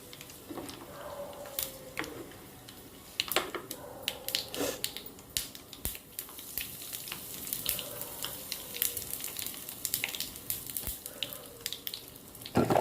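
Fenugreek and mustard seeds fry in a pan for a pickle, giving a soft continuous sizzle broken by scattered sharp pops and crackles as the seeds burst, fairly close, with occasional faint clinks.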